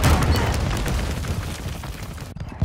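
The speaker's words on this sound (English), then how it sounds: "Hostile cruise missile incoming" A cruise missile blast in Call of Duty Modern Warfare II rumbles loud and dense, a sustained booming roar that holds for over two seconds, then cuts off abruptly before a final small thump.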